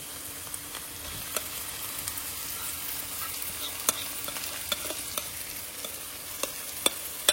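Paneer cubes frying in a pan, a steady low sizzle with occasional sharp pops and crackles, close and moderately quiet, no voices.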